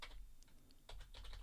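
Quiet, quick keystrokes on a computer keyboard as a username and password are entered on a login page, with short bursts of clicks separated by brief pauses.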